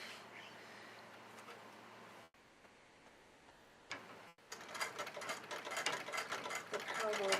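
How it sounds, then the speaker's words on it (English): Sewing machine stitching fabric, a faint rapid ticking whir that pauses and restarts, growing louder and busier toward the end. No one speaks. "just stitch it again, but I might stitch it twice this time"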